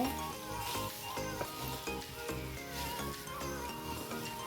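Taro stolons sauté in a pan with jackfruit seeds and masoor lentils, producing a continuous close sizzle laced with faint stirring clinks and a low background hum, with no voices.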